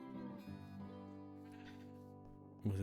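Sheep bleating in the Minecraft 1.19 video game, a drawn-out wavering bleat followed by a short, louder bleat at the end, clear and close.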